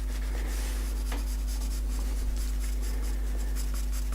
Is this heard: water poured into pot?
no